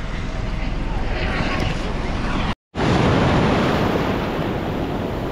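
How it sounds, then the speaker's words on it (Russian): Loud, steady roar of sea waves rolling onto a beach in Phuket, broad and continuous with wind buffeting the microphone, briefly cutting out midway. "волны классно накатывают"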